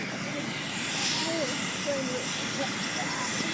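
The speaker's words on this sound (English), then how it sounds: "I said the chopper landing" Aircraft engine drone from a helicopter landing nearby outdoors, a steady loud rumble and whine sustained throughout, with people talking faintly underneath.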